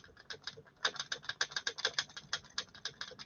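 Ratchet tightens a bolt on a CC-01 rear link, a rapid run of sharp close clicks in an even rhythm lasting about two and a half seconds.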